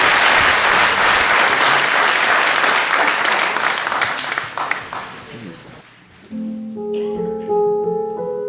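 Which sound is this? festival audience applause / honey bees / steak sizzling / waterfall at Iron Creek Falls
festival audience applause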